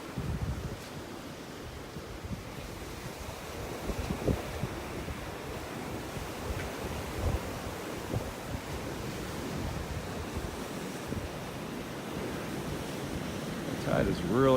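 Ocean surf at the beach by Naples Pier on a Sunday morning with the tide coming in: a steady, continuous wash of waves mixed with wind rumble on the microphone, fairly loud and unbroken throughout.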